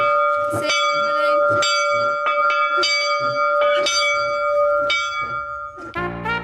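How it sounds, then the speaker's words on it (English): A large bell rung hard and repeatedly to announce the end of the war, loud and close, each strike ringing out in a bright, sustained tone, with a brief voice near the end. "I want you to ring the bell for me so we can tell everybody that the war's over."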